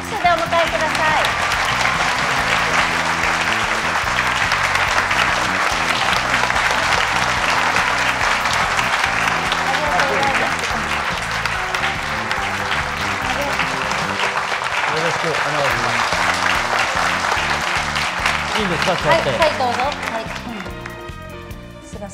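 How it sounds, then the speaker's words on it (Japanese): A large audience gives loud, sustained applause to welcome a guest at an anniversary gathering, a dense roar of clapping from a big crowd that holds steady and then thins toward the end. "どうぞ皆さん大きな拍手でお迎えください"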